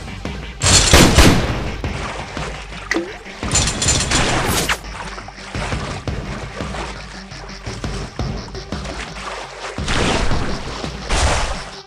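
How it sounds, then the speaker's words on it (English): Gunfire in the mobile game Raft n Roll: a shotgun fires repeatedly in loud, sharp blasts with crashing impacts, spread irregularly across the scene and heard close up with no talking. "Shotgun!"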